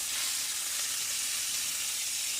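Burger patties sizzle steadily in a hot pan right after being flipped, a close, even frying hiss filling the whole stretch with no voices.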